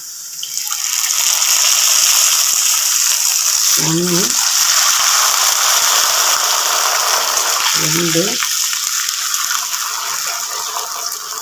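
Steady gushing of water pouring continuously into a cooking pot, loud and close, with a voice briefly counting over it twice.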